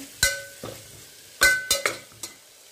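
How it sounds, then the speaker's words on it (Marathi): Black-eyed pea dal is sautéed in oil with ground masala, heard as a low sizzle punctuated by several sharp spatula knocks and scrapes against the pan at irregular intervals. "ही डाळ छान तेलामध्ये परतून घ्यायची।"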